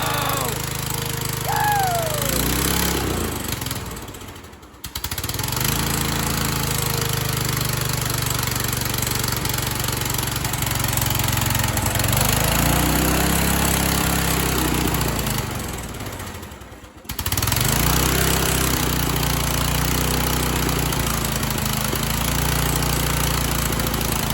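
A race lawn mower engine starts and runs loud and close, a rough steady roar that drops out twice in brief dips before picking back up.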